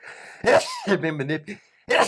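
A single sharp sneeze bursts out near the start and another comes at the end, with voiced speech-like sounds between.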